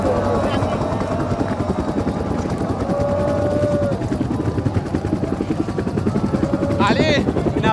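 Helicopter rotor thumping steadily and loudly nearby, its rhythmic chop continuous throughout, with people talking over it and a high whine rising near the end.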